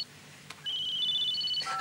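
A telephone rings with a bright electronic ringtone, a steady tone that shifts pitch partway through, fairly quiet and alone.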